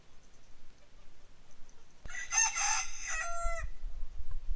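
A rooster on a homestead gives one clear crow lasting about a second and a half, heard from a short distance over quiet farmyard background noise.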